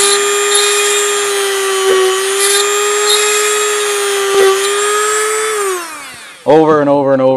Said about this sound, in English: Drill through, move over a little bit.